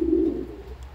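Racing pigeons give a low, throaty coo close by, a single drawn-out call that fades after a moment, with no talking.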